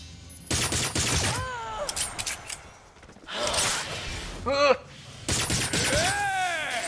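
Gunfire and shattering erupt in bursts during the Agents of Mayhem video game, loud volleys separated by brief lulls, with swooping electronic effects and game voices mixed in.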